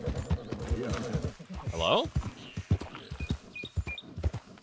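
Horse hooves clip-clop in Red Dead Redemption 2, a steady run of soft close knocks that runs through the whole stretch, with a brief whinny partway in and someone talking over the top.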